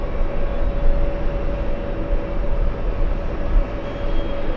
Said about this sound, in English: We have a Delta Airlines 767.